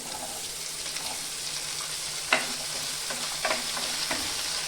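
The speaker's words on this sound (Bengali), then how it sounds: "আমি একটু আলুটা ভেজে নেব।" Diced potatoes fry in a pan with a steady, close sizzle and hiss, broken by a few soft scrapes and clinks of stirring.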